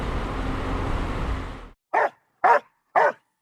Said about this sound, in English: The dog had started barking.